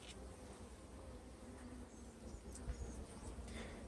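Bees swarming over a beehive frame give a faint, steady, close buzzing hum that holds evenly throughout, with no voices.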